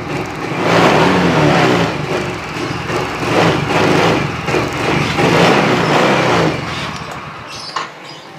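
Yamaha Soul GT 125 scooter engine, weak and lacking power, revved up and down in several rough swells for most of the span before dropping off near the end, close by with no voices.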